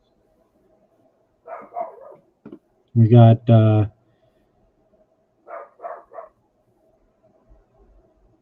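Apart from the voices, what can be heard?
dog named Bandit barking in another room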